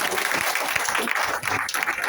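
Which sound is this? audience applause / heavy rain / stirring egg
audience applause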